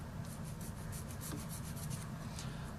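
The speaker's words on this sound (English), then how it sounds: "And then I'll hit it with the sander just a little bit." A sander worked briefly over a plastic model part, producing a steady, close scratchy rasp with faint rhythmic strokes throughout.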